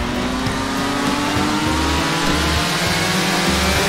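A Yamaha F1ZR two-stroke motorcycle in GTA 5 roleplay running at full speed, a loud steady buzzing engine drone with rhythmic pulsing revs and constant wind-like roar throughout.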